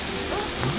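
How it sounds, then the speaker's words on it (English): Cartoon rain in a Tayo the Little Bus episode, a steady soft hiss of falling rain under faint voices and a rising cartoon sound, brief and even throughout. "oh, it's raining?"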